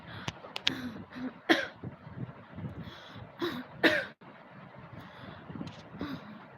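A woman coughs and clears her throat several times in short, sharp bursts, fairly quiet and scattered among soft background noise and faint breath sounds in a hot-season setting.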